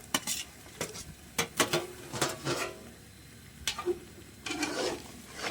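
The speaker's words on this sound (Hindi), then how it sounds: "इसमें मैं अब चिकन डाल दूँगी जो हमने फ्राई किया था" Fried chicken tipped into separating oil in a pan and stirred for a chicken qorma, with a sharp metallic clatter of a spoon against the pan in bursts over a light sizzle.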